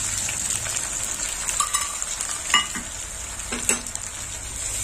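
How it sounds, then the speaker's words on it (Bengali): Spice paste for dahi baingan frying in a hot pan and being stirred, a steady loud sizzle with occasional scraping strokes of the spoon, close up and alone. "মশলাটা একটু কষা হবে।"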